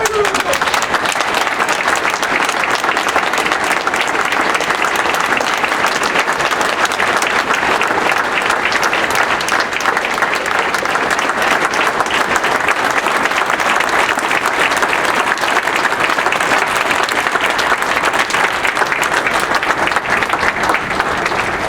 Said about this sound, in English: Please give a big round of applause to my mother